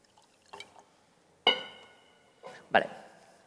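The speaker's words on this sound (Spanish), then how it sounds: "Necesito coger un poco de agua" Someone pours water into a glass and drinks during a quantum computing talk, a few separate splashy clinks and sips with quiet pauses between, fairly faint and close, with no talking over them.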